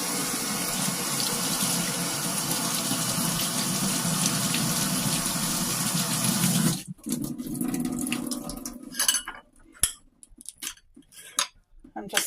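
A green pepper is rinsed under a running kitchen tap, giving a steady rushing stream for about seven seconds, followed by quieter splashes, drips and handling clatter at the sink.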